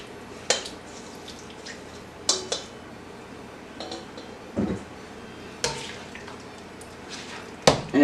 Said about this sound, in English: add the broccoli back in. And give this a nice toss